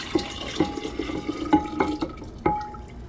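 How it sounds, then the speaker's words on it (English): Two cups of warm water are poured for a sourdough starter, giving a soft splashing stream broken by several sharp drips and light knocks against the container, close by with no talking. "we're going to add the 2 cups of warm water"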